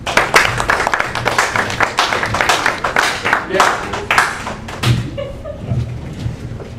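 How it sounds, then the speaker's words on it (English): Steady clapping from a crowd at an open mic poetry night, lively and close, tapering off over several seconds with a few voices and scattered claps at the end. "thank you to my students for the applause there"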